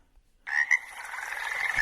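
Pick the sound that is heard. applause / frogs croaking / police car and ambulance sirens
frogs croaking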